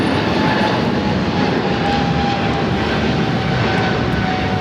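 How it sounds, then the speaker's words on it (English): A Japan Airlines Boeing 777-300 jet takes off at Los Angeles airport, its engines a loud, steady, broadband roar that holds throughout without a break. "This is Japan Airlines Flight 15 taking off to Tokyo, Haneda on the 777"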